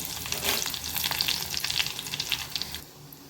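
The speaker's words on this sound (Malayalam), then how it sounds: "കടുക് നല്ലോണം പൊട്ടിയതിന് ശേഷം ഉണക്കമുളക് ആഡ് ചെയ്യാം." Dried red chillies and mustard seeds fry in coconut oil, a close, bright crackling sizzle with scattered pops that thins out toward the end, with no talking.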